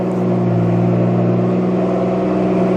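A BMW 435i running just after starting up, its engine holding a steady, loud, even drone with a smooth hum and no voices.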